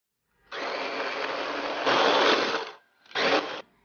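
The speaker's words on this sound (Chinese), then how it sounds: "马蹄和香菇用料理机打碎，" A kitchen food processor chops soaked shiitake mushrooms and peeled water chestnuts in a loud whirring burst of about two seconds that stops briefly, then gives a short second pulse. No one speaks.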